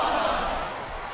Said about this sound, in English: listen to that chant, Taz.